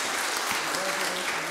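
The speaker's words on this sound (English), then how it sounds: "And the congregation will clap." A church congregation claps steadily during a Holy Eucharist service, a dense, even wash of applause that fills the whole moment without pause.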